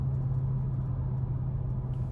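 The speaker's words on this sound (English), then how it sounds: "The wind and tire noise really aren't that bad." Cabin hum inside a 2020 Dodge Charger R/T Scat Pack Widebody on the move, a steady low engine drone under moderate wind and tire rumble, constant and even throughout.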